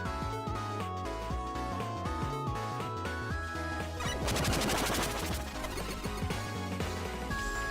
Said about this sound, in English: Fucking wall explosions.